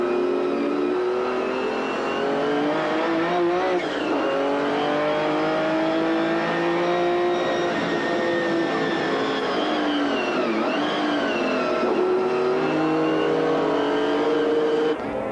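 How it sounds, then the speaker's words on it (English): McLaren F1 GTR race cars at Paul Ricard in 1995 GT racing, a loud continuous engine howl with rising and falling pitch as the cars accelerate and shift, sustained throughout without pauses. "the McLaren F1 GTR setting the pace in GT racing"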